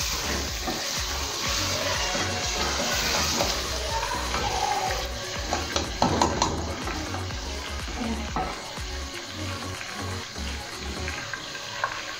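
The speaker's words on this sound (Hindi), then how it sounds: "इसे अब हमने अच्छी तरह भूनना है, इसकी स्मेल ख़त्म करनी है।" Chicken biryani masala frying and being stirred in a pot, a steady close sizzle with scraping stir strokes and occasional clatter, fairly loud throughout with no talking.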